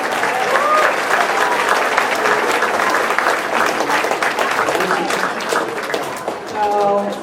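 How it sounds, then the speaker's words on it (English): A school auditorium audience at an elective night claps loudly and steadily, dense applause filling the room before thinning out near the end, with a few voices mixed in. "Let's give another round of applause for all our 6 programs."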